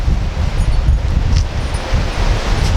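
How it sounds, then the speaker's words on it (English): Strong wind gusts rush through dry leaves during severe weather, rustling steadily with low buffeting rumbles on the microphone. "now it's just super windy"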